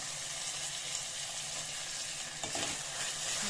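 Tomatoes and green chillies frying in a pan for dal tadka, a steady close sizzle filling the whole stretch with a brief stirring scrape partway through.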